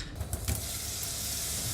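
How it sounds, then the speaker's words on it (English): Meatballs pan frying, giving a steady close sizzle with broadband hiss and a few brief louder crackles near the start, with no talking. "Okay, I added them to the pan and they're sizzling."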